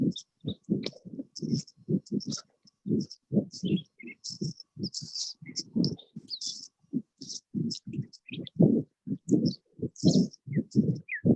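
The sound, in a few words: birds chirping in a caller's background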